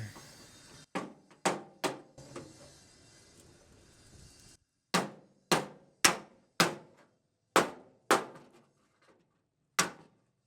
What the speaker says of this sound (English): the handle's hitting there, so it's striking at a little bit of an angle.